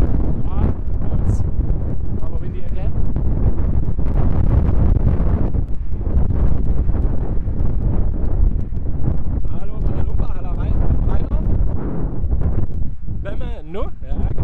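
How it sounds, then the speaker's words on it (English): Heavy wind buffets the microphone with a constant low roar and rumble while people talk underneath, outdoors on a walk in Leipzig. "It's rather windy again."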